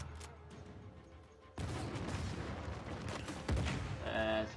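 Gunfire erupts in a shootout in the Uncharted 4 video game, a dense rumbling burst of shots and booms breaking in after a quieter start, loud and sustained with a sharp blast near the end.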